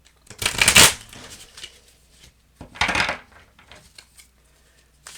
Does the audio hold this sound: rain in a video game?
no